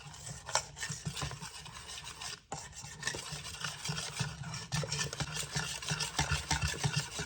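Muffin bread batter being mixed by hand in a bowl, a quiet, continuous scraping and stirring with irregular soft knocks and rubs, close up and without talk.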